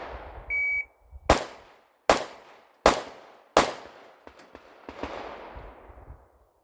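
After a shot timer's start beep, four sharp handgun shots are fired strong hand only in an even rhythm, each crack trailing off into echo, followed by faint clattering and softer outdoor noise.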